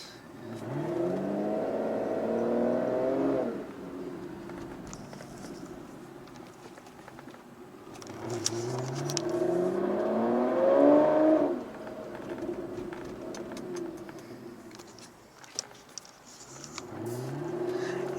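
V12 car exhaust swelling in repeated revving pulls on a late-night drive, rising in pitch twice with long surges and easing off between, with no talk.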